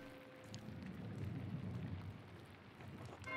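Steady, soft rain falling in the medieval adventure game Pentiment, a faint continuous patter with a low rumbling undertone and no speech.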